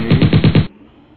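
A rapid burst of about five loud, evenly spaced gunshots rings out close by in under a second, then drops to quiet background noise.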